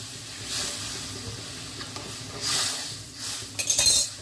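Mustard paste is stirred in a sizzling pan for a pabda fish curry with amra, with bursts of spoon scraping and clinks against the metal over a soft frying hiss, close and intermittent, no voices.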